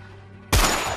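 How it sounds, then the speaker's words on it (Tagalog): A sudden loud gunfire effect in a spoken horror story, a burst of rapid shots that cuts in abruptly after a quiet low hum and stays dense and loud to the end. "Sunod-sunod na putok ang pinakawala ni Gaston."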